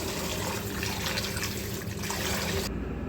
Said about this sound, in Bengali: এই যে এখন আবার রুই মাছগুলো ধুয়ে নিচ্ছি